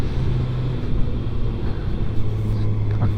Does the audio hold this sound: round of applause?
no